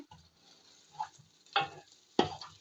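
Mutton biryani masala is stirred in oil for Ambur biryani. Quiet, sparse scrapes and soft sizzles come in three short bursts, with near silence between them.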